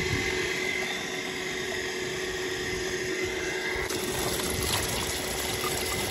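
A pump pours cold water into a tank holding fish, a constant loud gushing rush that carries through the whole stretch without a break.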